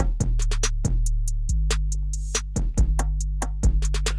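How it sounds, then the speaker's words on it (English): Isolated hip-hop beat drums play alone, with booming sustained 808 bass kicks under rapid, crisp hi-hat rolls and snaps in a stuttering, syncopated pattern, loud and close. "I'm gonna let y'all hear the drums just by itself"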